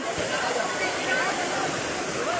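Rushing flood water of a swollen river at Anitapan, Mabini, surging around a stranded pick-up truck, a loud steady broadband roar filling the clip with no break.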